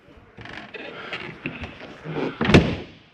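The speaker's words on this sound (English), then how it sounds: "Lock and deadbolt your door." An RV's exterior door is handled and shut with some rattling and shuffling, ending in a firm, close latch thud and clunk.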